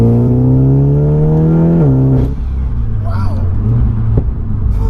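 A stripped-out Audi S3 saloon making 406 bhp with an open filter revs loudly nearby, then the recirc valve flutters as the revs drop. A voice briefly exclaims over it.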